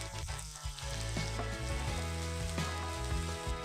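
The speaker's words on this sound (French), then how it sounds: "Nous mettons la poêle en fonte sur le feu, ajoutons l'huile, faisons dorer les oignons," Onions and bell pepper frying in oil in a cast-iron pan, a steady close sizzle with low tonal kitchen hum underneath, no talking.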